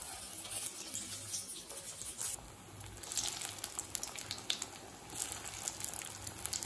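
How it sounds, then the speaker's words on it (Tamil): Soya meal maker kola balls sizzle and crackle softly in hot oil, a faint, continuous frying hiss with scattered small pops. "இப்போ இதை எண்ணெயில் போட்டு பொரிக்க ஆரம்பிச்சிடலாம்."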